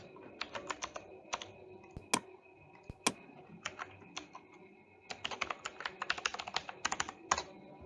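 Fingers type on a computer keyboard in quiet, close bursts of rapid keystrokes, broken by a short pause and a couple of louder single key taps, with no talking over it.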